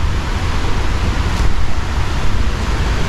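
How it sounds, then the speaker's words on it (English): Behind a house in Ocho Rios, a river runs as a loud, steady broadband rush of flowing water, constant and close throughout with no talking over it. "I don't know if you guys can hear the river."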